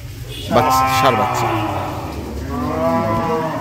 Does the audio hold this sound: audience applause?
no